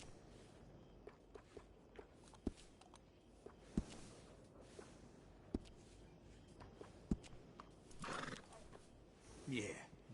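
Horse neighing and hooves clip-clopping in Red Dead Redemption 2, with sharp hoof knocks at intervals and two louder whinnies near the end, set over steady in-game ambience and background voices.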